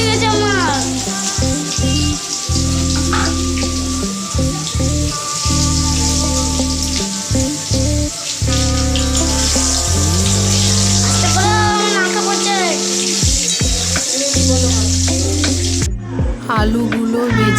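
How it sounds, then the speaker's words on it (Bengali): Boiled potatoes fry in hot oil in a wok (kadai) with a little turmeric, a steady crackling sizzle running throughout beneath prominent background music. "তেলের মধ্যে সেদ্ধ করা আলুগুলো দিয়ে দেব, দিয়ে ভেজে নেব"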